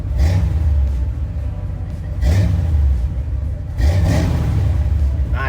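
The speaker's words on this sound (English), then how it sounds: "listen how quick this thing revs to be what it is though" A car with a 408 engine revs up sharply three times in quick succession, each rise and fall fast and throaty, heard close with no talking.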